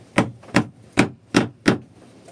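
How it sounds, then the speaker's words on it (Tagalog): A hammer strikes metal in a ship's engine room: five sharp, evenly spaced blows about every third of a second, loud and close, each ringing briefly before the next. "Ang mahiwagang martilyo."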